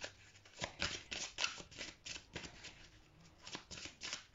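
Tarot cards shuffled and drawn by hand during a new moon reading, a steady run of soft papery riffles and flicks, close and fairly quiet, with no talking.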